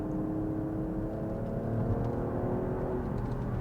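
An Alfa Romeo Stelvio Quadrifoglio engine hums and whirs steadily under acceleration, a continuous low drone heard from inside the car with no talking.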